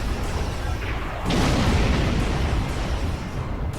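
Heavy starship cannon fire in the video game Star Trek Online, with deep booming blasts rolling together into a dense, continuous rumble.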